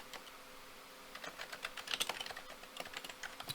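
Quick, irregular clicks of computer keyboard typing, light at first and then denser, close by with no voices.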